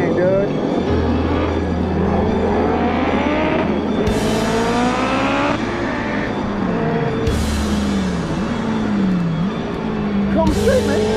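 Race cars on a track roar close by, their engines revving up and down through repeated gear shifts with sharp rises and drops in pitch, loud and continuous.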